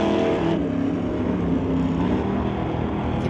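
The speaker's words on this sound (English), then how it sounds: "Hear those throttle delays, and then they let off and rah, all the way to the big end." Drag racing cars at a strip roar close by with a sustained, heavy engine drone, throttle held hard in a continuous, loud rumble without a break.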